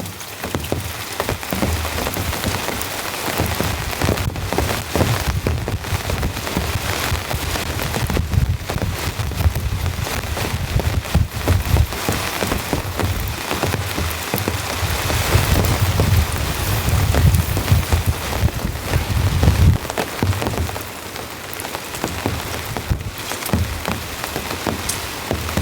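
Heavy rain drums steadily on a tent during a storm while strong wind gusts buffet it, a dense, continuous roar with swelling surges and no voices.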